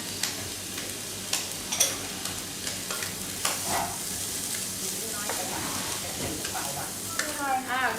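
Egg fried rice stir-frying in a pan, a continuous moderate sizzle with intermittent stirring knocks, heard near, with voices talking faintly underneath toward the end.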